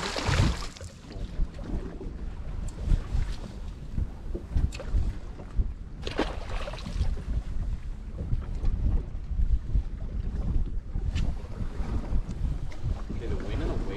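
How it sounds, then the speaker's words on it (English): Steady wind buffets and rushes over open water on Green Bay near Oconto, Wisconsin, blowing across the waves, with choppy splashing and gusty rumbles close to the microphone. "Wind's blowing like 90 degrees compared to the waves."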